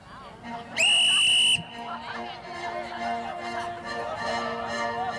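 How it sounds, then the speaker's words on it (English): A loud, shrill whistle blast lasts under a second at a game between Army and Navy teams, followed by music and crowd noise with voices in the background. "as soon as the whistle sounds and the music begins, our final quarter will start"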